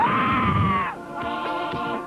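A rider screams long and high on the Judge Roy's Scream roller coaster, a steady shriek that cuts off about halfway, then a fainter, rougher cry rises over the rumble of the ride.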